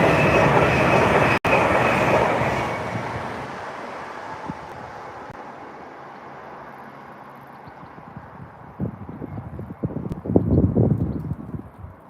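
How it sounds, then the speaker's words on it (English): A TransPennine Class 800 train passing close by, a loud roaring rush that fades into a distant rumble, followed by rhythmic clattering of wheels over the rail joints. "Yep, it's a Transpennine. I think it's an 800, a class 800."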